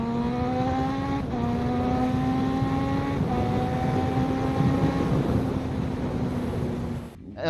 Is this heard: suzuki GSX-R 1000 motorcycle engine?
yes